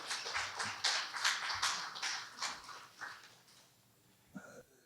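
Audience clapping at a water forum session on Han River basin issues, a dense burst of hand claps that thins out and fades over a few seconds, with a faint knock near the end.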